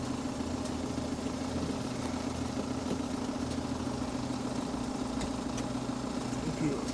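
A car engine idles at a steady low hum, heard from a little distance with a constant vibration under faint background noise.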